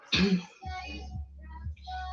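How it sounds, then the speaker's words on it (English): A single sharp throat clearing, followed by a low voice murmuring quietly. "I'm always clearing my throat."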